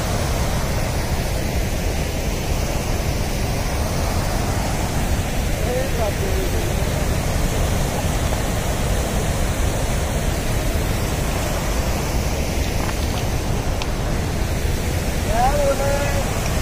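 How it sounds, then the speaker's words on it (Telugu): Steady broadband rush of Himalayan waterfalls beside the Manimahesh trek path, loud and continuous throughout with no letup, a few faint higher chirps or calls surfacing briefly over the roar. "అద్భుతమైన ప్రకృతి సౌందర్యంలో జలపాతాలు."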